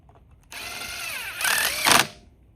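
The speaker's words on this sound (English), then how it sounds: "These you can absolutely use a small impact or drill on" A power drill driving bolts on a Troy-Bilt TB110 lawn mower whirs in a short burst, its pitch rising and straining before it cuts off.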